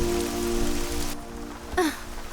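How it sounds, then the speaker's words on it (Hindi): Sudden rain in New York pattering on surfaces in a dense, steady hiss, with a brief sweeping tone cutting through near the end. "न्यूयॉर्क में अचानक बारिश शुरू हो गई"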